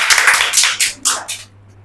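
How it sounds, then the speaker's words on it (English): Seminar audience clapping as two speakers are welcomed on stage, a short ragged burst of hand claps that thins into a few separate claps and then stops. "A big clap for Afsa and Sazia."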